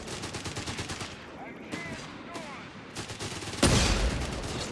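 Machine gun fire in the strategy game Company of Heroes 3, rapid rhythmic bursts of automatic fire mixed with other battle noise and a loud blast near the end.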